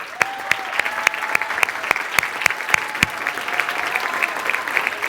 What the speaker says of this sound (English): Let's give our presenter another big round of applause.